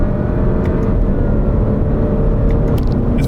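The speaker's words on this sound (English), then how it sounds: "we'll just do a little acceleration here on the interstate" A 2023 Alfa Romeo Stelvio Veloce AWD in D4 pulls hard on an interstate, its engine and road rumble forming a steady, dense, fairly loud drone throughout, with no talking.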